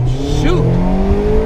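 A Mazda Miata MX-5 (ND) launching hard off the line, its engine revving up with a rising whine and a brief tire chirp, loud and close from inside the car.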